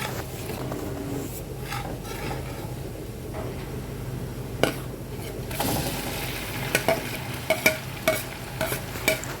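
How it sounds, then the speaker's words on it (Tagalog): Minced ginger, garlic and onion sautéing in a pan, a steady sizzle with scraping stirring strokes throughout and a cluster of sharper utensil clicks toward the end. "Paghaluin po natin hanggang maluto yung ating ginger, garlic, at sibuyas until golden brown."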